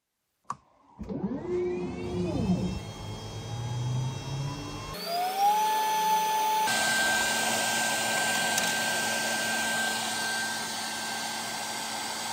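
WeCreat Vision Pro 45W laser cutting 5mm plywood, heard as a steady whirring fan and air-assist drone with rising tonal whines as the machine starts up, continuous and fairly close, with no talking.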